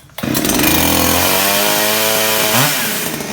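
A ZOMAX ZM5030 two-stroke cut-off saw engine catches and runs, a sudden loud buzzing start settling into a steady high idle with a brief rev blip near the end.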